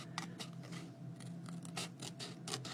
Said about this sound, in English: these scissors are really sharp